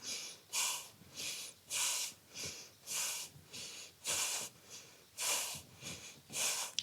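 Deep, steady yoga breathing during a warming hatha session: about nine close, loud, hissing inhales and exhales in an even rhythm, with no talking.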